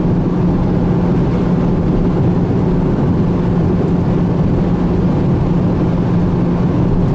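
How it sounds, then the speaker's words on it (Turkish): Wind roar inside a Fiat Palio cruising at highway speed, a loud, constant broadband rush with low road and engine drone underneath, unbroken and without speech. "Rüzgar sesini duyabiliyorsunuzdur."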